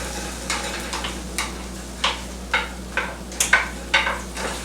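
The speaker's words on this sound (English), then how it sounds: "I can hear them sizzling in there" Honey roasted potatoes in a butter, honey and onion mixture sizzle under sharp clinks and scrapes of stirring, a string of distinct taps about every half second over a low frying hiss.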